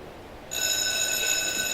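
A school bell in a school musical starts ringing abruptly and keeps up a steady, bright, sustained ring, loud and close over faint room noise.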